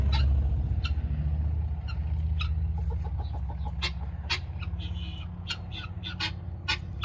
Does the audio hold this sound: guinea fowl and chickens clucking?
yes